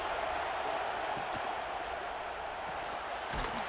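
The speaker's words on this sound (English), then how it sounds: "Listen to the crowd energy here in the early going." A dense stadium crowd roars at a college football game in EA Sports College Football 26, a steady broadband wash of cheering and applause that stays constant, with a few faint thumps near the end.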